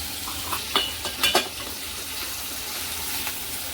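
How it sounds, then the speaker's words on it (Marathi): Chopped tomato being sautéed with bitter gourd in a pan: a continuous close sizzle broken by a few sharp stirring scrapes early on, then an even hiss; no talking. "हा टमॅटो पण आपण याच्यात टाकूया छान असा परतून घ्यायचा आहे"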